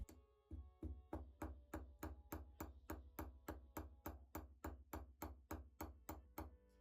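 A small chasing hammer taps wire in an even, rapid rhythm, about three light strikes per second, close and crisp, flattening the wire end into a paddle.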